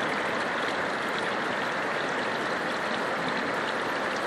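River water flowing at the mouth of the Djoué river in Brazzaville, a steady, dense rushing roar with no breaks and no voices.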